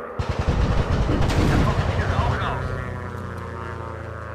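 World War I fighter planes roar while machine guns rattle in rapid bursts in the VR game Warplanes, loud and close, with the gunfire thinning out as the aircraft drone fades.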